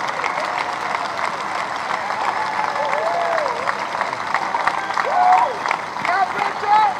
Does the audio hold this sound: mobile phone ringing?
no